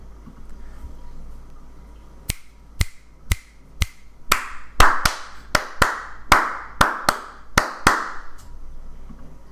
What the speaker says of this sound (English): I'm going to snap my fingers like 1, 2, 3, 4, and then I clap my rhythm